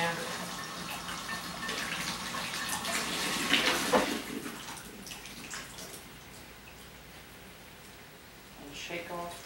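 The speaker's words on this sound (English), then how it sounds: "First I'm gonna start off with is a half a head of lettuce. Wash that off." Tap water runs steadily over half a head of lettuce being washed in a sink, a close splashing hiss that swells briefly midway, then thins out.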